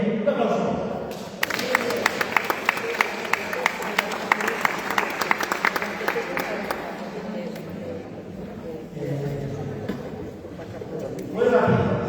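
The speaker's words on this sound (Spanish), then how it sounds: "Muy bien, un aplauso." Audience clapping at a charra music and dance event builds into a dense burst of applause with sharp hand slaps, then fades into crowd murmur and talk.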